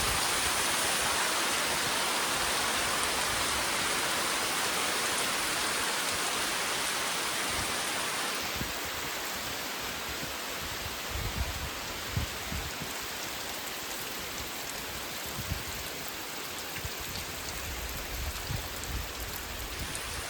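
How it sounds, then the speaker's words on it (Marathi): Heavy monsoon rain pours steadily on a village farm during rice-planting season, a dense continuous roar of falling water that stays loud throughout with no voices. "पाऊस आलाय जोरात एकदम."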